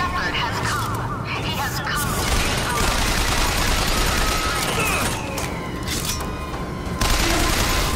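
Continuous dense gunfire in the Bioshock Infinite video game, a chaotic barrage of overlapping shots and booms filling all eight seconds, loud and close with no pause.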